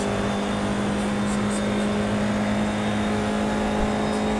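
Race car engine droning steadily on the back straight during a race, a constant loud hum with a strong steady tone, no gear changes or talk.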